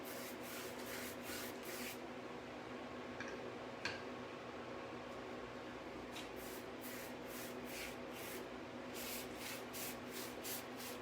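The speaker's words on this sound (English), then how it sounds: "I'm going to try and just do a fine, very fine mist on there." Fine mist sprayed onto a chalk painting in repeated short bursts, soft hissing pulses grouped in clusters over a steady background hum, fairly faint and without talk.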